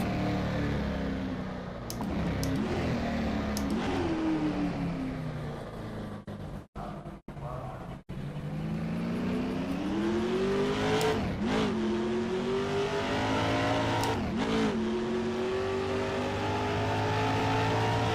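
Touring car from the Aussie Legends mod in rFactor 2 roaring steadily near and loud, engine pitch climbing then briefly cutting out during gear changes before revving back up, with repeated upshifts.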